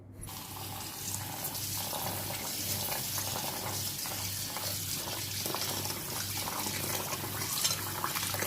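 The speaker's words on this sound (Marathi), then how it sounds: "आता आपण हे तांदूळ स्वच्छ 3-4 पाण्याने धुवून घेणार आहोत" Rice is washed in clean water in a home kitchen, a steady close splashing and running-water wash that continues without pause, with no talk.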